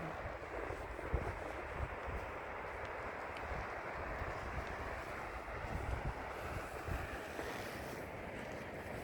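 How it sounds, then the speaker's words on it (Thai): Continuous rushing water with a broad, steady roar, mixed with wind buffeting the microphone outdoors. "สิได้ยินเสียงน้ำไหลเด้อจ้ะคนน้ำไหลเยอะคน"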